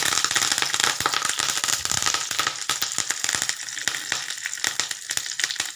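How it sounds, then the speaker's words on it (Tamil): Mustard seeds and fenugreek spluttering and popping in hot oil for masala rasam, a dense, continuous rapid crackle of sharp pops, loud and close, with no voices. "எண்ணெய் காஞ்சதும் கடுகும் வெந்தயமும் போடுறோம்"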